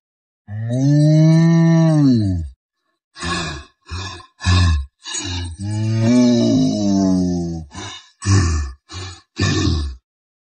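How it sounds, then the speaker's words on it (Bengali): A cartoon buffalo, worn out from ploughing a field, breathes heavily in long loud groaning breaths and short grunting huffs, close and alone, with brief pauses between. "একদিন জমি লাঙল দেওয়ার সময় মাঝপথে বাউন্টি বসে পড়ল আর জোরে জোরে নিঃশ্বাস নিতে লাগলো"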